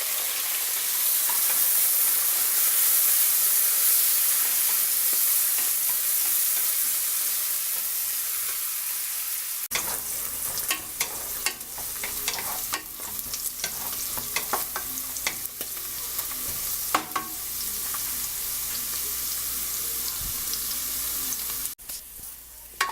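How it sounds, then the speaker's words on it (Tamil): Mint, coriander and green chillies frying in oil for Madurai-style mutton biryani: a steady, loud sizzle and hiss, followed by repeated stirring scrapes and clatters against the pan. "இப்போ இந்த புதினா கொத்தமல்லி எல்லாமே நல்லா பொரிஞ்சிருச்சு"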